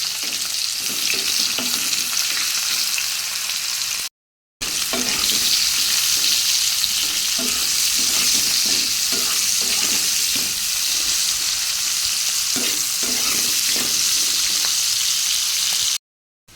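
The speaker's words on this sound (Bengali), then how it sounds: "ভাজা ভাজা হয়ে গেছে" Steady loud sizzling of food frying in a hot pan, with intermittent scraping and stirring sounds throughout and a couple of brief gaps.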